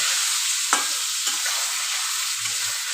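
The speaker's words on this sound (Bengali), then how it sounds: "হলুদ গুঁড়ো দিয়ে দেবো 1 চামচ, আমি ভালো করে ভেজে নেব।" A spoonful of turmeric powder sizzles steadily as it is stirred and fried in hot oil, with a sharp spoon scrape near the start and quieter stirring after.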